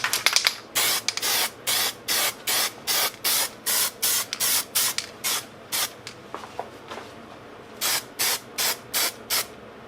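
A spray paint can hisses in repeated short bursts as black plastic car trim is coated, each blast lasting about half a second with brief gaps, close and fairly loud with no talking.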